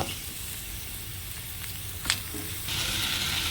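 Moringa leaves frying with onion and garlic in a pan, a steady close sizzle with a short sharp clatter midway before the hiss swells slightly.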